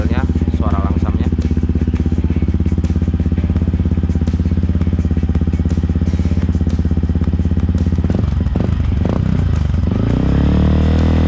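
A Yamaha WR155R motorcycle with an aftermarket exhaust idles loudly with a deep, throaty burble and a steady pulse, then blips briefly near the end.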